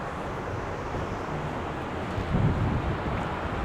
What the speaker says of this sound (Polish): No i tam szumi morze.